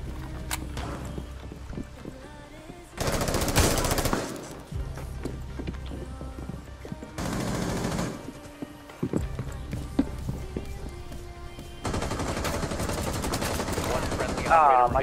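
Bursts of automatic gunfire in Rainbow Six Siege, loud rattling volleys in three or four separate stretches, with footsteps and quieter movement sounds in between.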